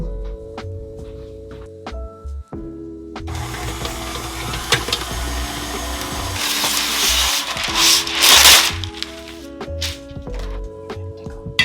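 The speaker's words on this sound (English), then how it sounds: "I'm gonna take this over to my mixer and just make sure this is all blended well together." An electric mixer blends a pumpkin pastry mixture, running with a steady mechanical whir and clatter that builds to a louder, busier churning near the end, with no talking over it.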